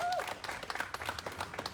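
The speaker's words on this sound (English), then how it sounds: "Please give another round of applause for our own Shaman Walton" Scattered clapping from a crowd at an outdoor labor protest against big tech, fairly faint and uneven, with a brief whistle-like tone at the start and some voices mixed in.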